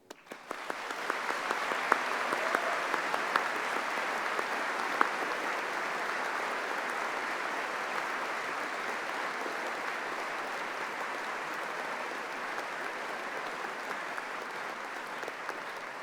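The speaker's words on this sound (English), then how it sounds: "join me in thanking them with another huge round of applause" Large audience at a university science and technology graduation ceremony applauding, a broad, even roar of clapping that swells quickly and holds steadily for a long stretch in a big hall.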